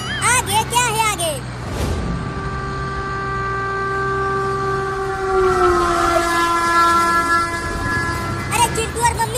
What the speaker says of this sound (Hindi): इसी लाइन पर आगे से ट्रेन आ रही है